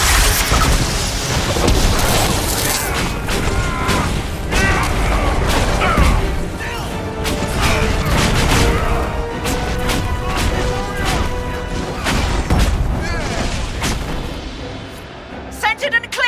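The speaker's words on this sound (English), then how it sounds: "We must get this trebuchet firing." Heavy trebuchet launches and crashing impacts in the fantasy game Dragon Age Inquisition, loud booms and smashes layered in a dense battle din with voices shouting over it.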